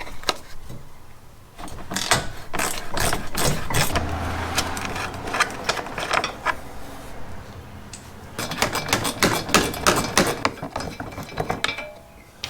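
A hand ratchet works a 10 mm bolt under a Toyota 4Runner, rapid clicking bursts in several runs separated by pauses, close and loud, with a low hum in between.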